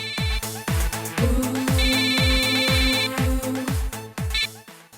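A mobile phone rings with an incoming call, its electronic ringtone repeating in loud, evenly spaced melodic pulses with bright high beeps, heard alone without talk.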